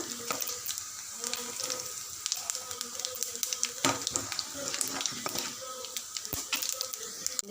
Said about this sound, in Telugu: ఒక స్పూన్ ధనియాలు వేసి వేపుకోవాలి